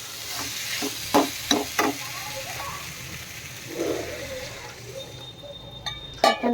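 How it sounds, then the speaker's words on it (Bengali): Pointed gourd and potatoes are sautéed without onion in a pan, with a spatula scraping and clinking in several sharp strokes over a low sizzle. A voice murmurs faintly in the background. "তো এখন কষানো চলছে"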